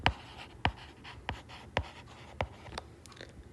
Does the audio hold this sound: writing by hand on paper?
yes